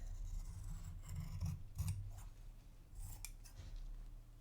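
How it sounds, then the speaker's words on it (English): A blade cuts along a marked line on material for a tie-shaped keyring, giving soft, close scraping and rasping strokes in short bursts against a quiet background. "So I rest my blade against the table for control, and then nice and wide, follow that cut line"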